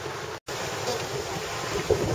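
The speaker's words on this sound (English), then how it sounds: "we have about a 20 mile an hour wind today at our back, so it's pushing us up the canal" A 20 mph wind blows over a canal in Cape Coral, making a steady broadband rumble and buffeting on the microphone, with a brief dropout near the start and no talk.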